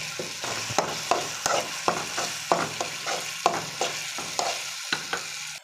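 Potatoes with spring onion and tomato stir-fried in a pan, a spatula scraping and tapping at a quick regular rhythm over a soft continuous sizzle, fairly close.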